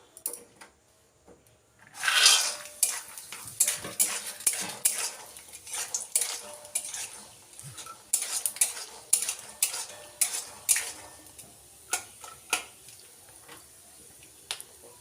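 Peanuts fried in oil in a hot wok, heard as repeated metallic scraping and clinking of a spatula against the pan over a faint sizzle, close and steady from about two seconds on.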